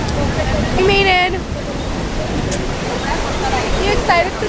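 Ocean surf at a beach roars as a constant broad wash of wave noise with wind buffeting the microphone, while voices talk over it.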